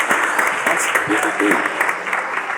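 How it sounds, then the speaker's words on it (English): Audience applause during a high school panel of speakers, a burst of clapping from students with a person speaking briefly over it. "You can clap."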